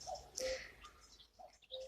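Birds chirp and call outdoors in spring, short faint tweets and coos scattered at a distance over quiet background.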